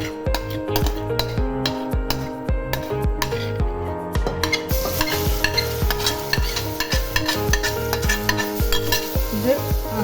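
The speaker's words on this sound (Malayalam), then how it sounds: "ഇനി നമുക്ക് എടുത്ത് വെച്ച മസാലകൾ എല്ലാം ഒന്നിച്ച് മുക്കിയടിച്ച് ചേർക്കാം." Spices tipped into hot oil for chole sizzle and crackle while a utensil scrapes and clinks against the pan in quick, uneven strokes, busy and close.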